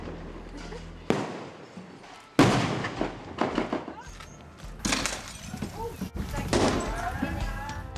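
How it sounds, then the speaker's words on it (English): Gunfire during a siege on Maple Avenue in Moonah, Launceston, captured as news footage: several sharp, loud cracks spaced a second or more apart, each followed by echoing street ambience. "That's just one of several exchanges of gunfire ringing out across Maple Avenue in Moona."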